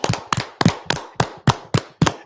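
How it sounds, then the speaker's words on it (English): Eight sharp hand claps land in a steady, even rhythm, close and clear, each one ringing briefly before the next. "Let's clap it up again"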